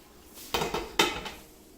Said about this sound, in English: Then you're going to add the lid and cook for 15 minutes